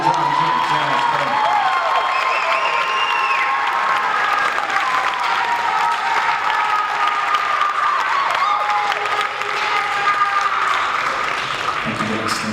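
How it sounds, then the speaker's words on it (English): Audience applause and cheering for a school jazz band at a concert, a loud, dense sustained wash of clapping from a large crowd that continues steadily throughout, with some shouts and voices mixed in. "So go ahead and give a round of applause for your John Jazz Band."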